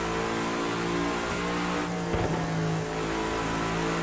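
A race car engine in the driving game Assetto Corsa holds a loud, steady, buzzing drone with a slight rev partway through, filling the whole stretch without pause.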